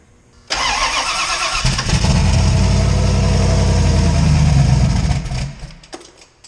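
A turbocharged 358 V8 in a Foxbody Mustang cranks and catches, settling into a loud, heavy, lumpy idle close by, then revs down toward the end.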